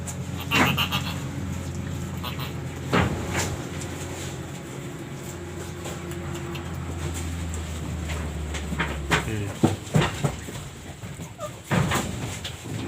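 A very thin young goat bleats several times amid a low steady hum and scattered handling noises, the cries short and close.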